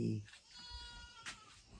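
A goat bleats once, faint and wavering, against a quiet outdoor background.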